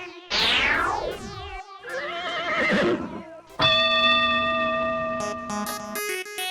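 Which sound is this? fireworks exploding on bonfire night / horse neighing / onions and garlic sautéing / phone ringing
horse neighing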